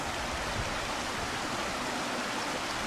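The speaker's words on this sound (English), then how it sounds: "the sound of the running water" Steady rushing of a stream in the Angus Glens, a constant broadband hiss, close and even throughout with no voices.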